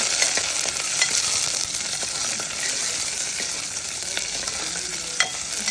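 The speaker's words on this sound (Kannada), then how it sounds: "ಈಗ ಒಗ್ಗರಣೆಗೆ ಎಣ್ಣೆ ಸ್ವಲ್ಪ, ಸಾಸಿವೆ, ಕರ್ಬೇವಿನ ಸೊಪ್ಪು, ಈರುಳ್ಳಿ ಹಾಕ್ಕೊಂಡು ಸ್ವಲ್ಪ ಬಾಡಿಸ್ಕೋಬೇಕು" Onions sauté in hot oil with mustard seeds and curry leaves for tempering, a steady sizzle, scraped by a spoon now and then with light clinks against the pan.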